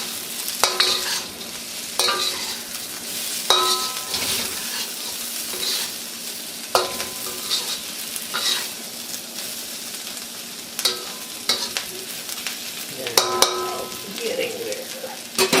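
Mushrooms stir-frying in oil in a wok, a steady sizzle punctuated by repeated metallic spatula scrapes and clanks against the pan at irregular intervals.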